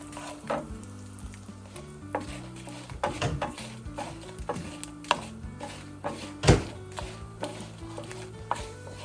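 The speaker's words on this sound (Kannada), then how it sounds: "ಇವಾಗ ದಡ್ಡಿಪತ್ರೆನ ಕಟ್ ಮಾಡ್ತಾ ಇದ್ದೀನಿ" A knife chops doddapatre (Indian borage) leaves in a kitchen, with a series of irregular sharp knocks over a quiet background and no talking.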